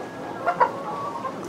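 Tiger chickens cluck in a couple of short, soft calls close by, over a steady background hum with no talking.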